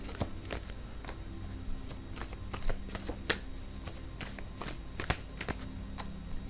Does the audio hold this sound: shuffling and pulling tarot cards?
yes